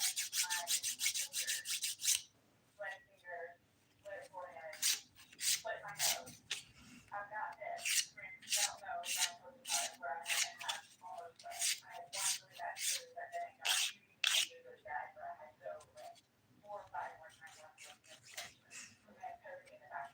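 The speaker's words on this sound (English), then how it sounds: "I'm just filing around every part of my nail, trying to make everything look even and also symmetrical" A nail file rasps across fingernails in short, repeated back-and-forth strokes, close and fairly soft, with brief pauses between bursts of filing.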